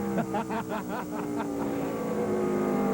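In-car engine drone from a NASCAR Craftsman Truck Series truck racing at the Milwaukee Mile, a steady loud roar with shifting harmonic whine, some brief fluttering bursts early on.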